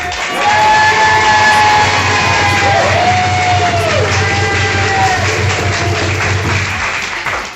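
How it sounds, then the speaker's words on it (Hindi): A crowd gathered for a morning bicycle ride on Resolution Day, 23 March, applauds and cheers loudly, with clapping, yells and whoops blending into one continuous, close roar. "जो आज सुबह उठा और उसने साइकिल चलाई, उसके लिए बहुत सारी तालियां"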